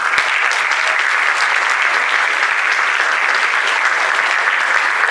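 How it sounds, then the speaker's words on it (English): An audience at a pageant claps continuously, giving the sponsors a steady, full round of applause that holds at an even level from start to finish, with no speech over it. "Please help me thanking them by giving them a round of applause."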